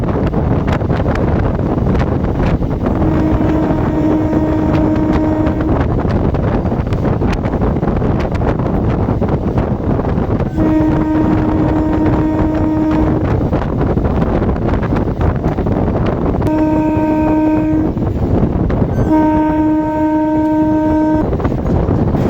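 A steady, heavy rumble of a local train rolling slowly through stations without stopping, broken by four long horn blasts at intervals.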